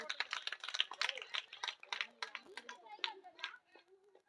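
Children clap their hands at a Sunday school Christmas games event, a scattered burst of claps mixed with lively kids' chatter and voices throughout.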